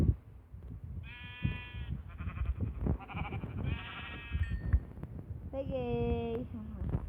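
Sheep in the Minecraft video game bleat several times in drawn-out, wavering calls, mixed with game sounds while a person talks over them.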